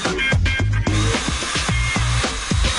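Power drill boring holes in an airtight box, loud close whirring bursts that start and stop in a repeated rhythm, each with a rising motor whine and grinding bite.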